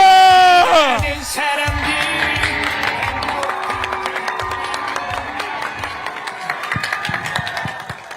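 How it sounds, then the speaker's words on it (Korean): An outdoor political rally crowd at a station square in Gumi cheers and shouts under amplified music, with a loud burst at the start and then sustained cheering and scattered claps. "더 큰 함성"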